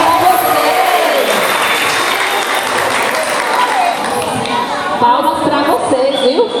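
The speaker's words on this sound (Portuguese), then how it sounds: "Palmas para vocês!" An audience applauds at a parish training session for liturgical readers, steady dense clapping mixed with crowd chatter and voices throughout.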